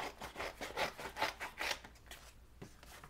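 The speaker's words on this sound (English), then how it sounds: "what I'm gonna do is just gonna cut off the bottom for now." Scissors snip through watercolor paper cut into feather shapes, giving a quick run of crisp, close, rhythmic cutting strokes that slow and thin out toward the end, with no voice.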